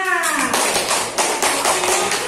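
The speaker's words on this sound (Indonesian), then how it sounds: "Tepuk tangan untuk kalian semua" Students in a classroom clap their hands together in a brief burst, a dense patter of close, loud claps with no talking over it.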